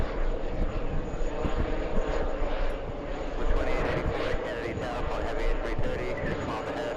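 A Delta Boeing 767 airliner lines up on the runway, its engines giving a steady, fairly loud roar that swells slightly midway, with faint voices in the background.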